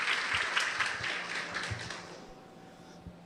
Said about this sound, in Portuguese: Com vocês, Adelane e José Maciel, uma salva de palmas.